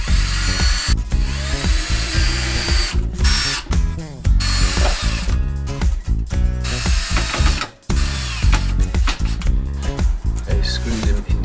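A power drill drives 3.5 by 50mm screws into wood while a wooden crate is built, loud and close, with repeated whirring bursts and a ratcheting clutch that stops and starts.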